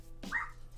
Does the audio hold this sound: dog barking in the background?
yes